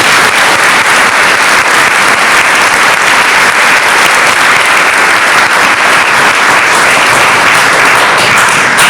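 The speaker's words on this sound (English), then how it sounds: "a round of applause to the Ritter family" A large audience at an art exhibition gives the Ritter family loud, sustained applause, with dense clapping that holds steady for several seconds without pause.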